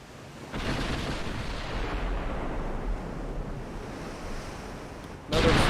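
Naval gunfire in the warship strategy game Ultimate Admiral Dreadnoughts, a deep rumbling broadside that rolls on like surf for several seconds, then a fresh sharp blast at the end.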